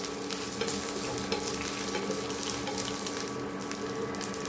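Mustard seeds, curry leaves and dried red chillies sizzling in hot oil in a pan while being stirred, a loud continuous crackling fry with scraping of the spoon, no voices.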